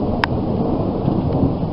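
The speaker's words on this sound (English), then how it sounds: "Thunder." A steady low rumble of thunder and rain hiss fills the clip, loud and continuous, with a faint brief tone near the start.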